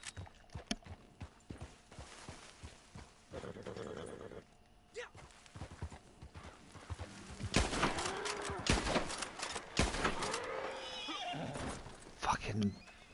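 A horse neighs loudly several times in Red Dead Online amid hoofbeats, bursts of gunfire and people talking.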